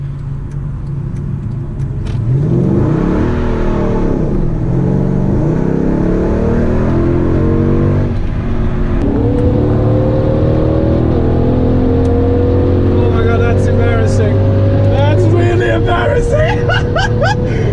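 A car engine revs hard and accelerates through several gear changes, pitch climbing and dropping, loud and close, with excited voices mixed in.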